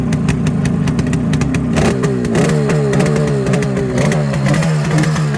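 A vintage carbureted twin-cylinder motorcycle engine runs steadily nearby, its loud uneven throbbing idle rising slightly in pitch midway, with no talking.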